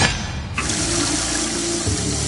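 Water bubbling and splashing from a drinking fountain in the sci-fi game Prey, a steady close-up liquid rush that fills the whole moment with no talking.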